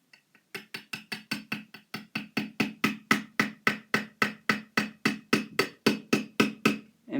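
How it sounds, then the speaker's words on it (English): A pin is tapped gently into the hinge of a trick Zippo lighter, giving a long, rapid, even run of sharp metallic taps close up, about four per second, with no talking. "just hammer it in very gently"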